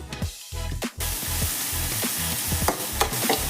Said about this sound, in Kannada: ಸೆಟ್ ಆಗೋ ತನಕ ಫ್ರೈ ಮಾಡ್ಕೊಂಡ್ರೆ ಸಾಕು, ತೀರಾ ಡೀಪ್ ಫ್ರೈ ಮಾಡೋದೇನು ಬೇಕಾಗಿಲ್ಲ.